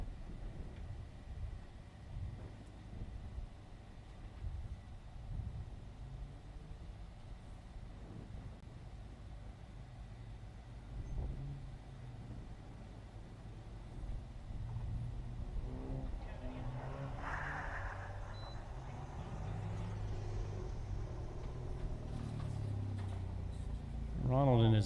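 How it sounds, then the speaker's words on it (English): A Chevrolet Sonic H Street class car launches at an autocross at St Lucie Fairgrounds, its engine a low, distant rumble that builds and revs up over time beneath steady announcer commentary. "Ronald in his H Street Sonic taking off."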